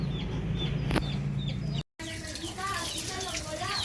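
Chicks and chickens at feeding time, with repeated soft peeping and clucking calls over a low background hum, briefly cut by a short gap, moderately close.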